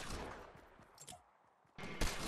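Gunfire in the video game Fortnite: dense bursts of shots early, quieter scattered reports in the middle, then loud sharp volleys returning near the end.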